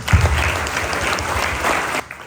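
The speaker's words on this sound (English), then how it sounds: "I think all of us would give a good clap to all our performances." School audience at a junior drama elocution event clapping for the performers, a loud burst of applause that cuts off sharply near the end.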